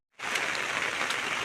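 Steady, dense rain falls during flooding in Assam, a continuous close hiss of drops that starts abruptly and stays even throughout, with no voices.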